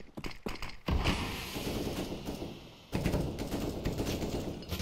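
Bursts of rapid gunfire in Counter-Strike, loud and close, firing in dense clusters with a brief lull near the middle before another sustained volley.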